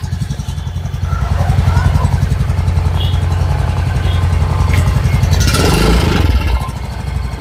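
A Yamaha Ray ZR Hybrid 125 scooter engine running close by, holding a steady buzzing idle, then rising in a brief rev before settling back.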